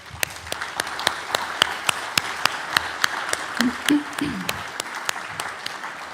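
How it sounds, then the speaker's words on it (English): A commencement audience at Riga Business School claps steadily, with crisp, evenly spaced hand claps ringing through a hall, briefly joined by a faint voice midway. "Let's give him applause."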